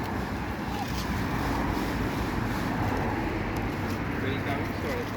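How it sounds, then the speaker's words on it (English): A Henry Hoover vacuum cleaner runs outdoors among fallen leaves, a steady loud whooshing drone with no break for several seconds, while people talk over it. "Go on then, hoover it all up."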